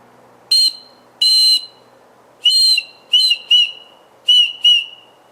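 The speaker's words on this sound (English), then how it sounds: "they have a little whistle, which we will try." A small survival whistle blown in seven short, shrill blasts, some paired quickly, loud and close with quiet pauses between.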